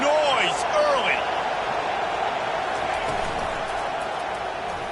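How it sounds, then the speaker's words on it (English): A packed stadium crowd at a college football game roars in a steady, loud wash, with a commentator's voice and a few whistle-like tones riding over it early on. "This crowd bringing the energy and noise early"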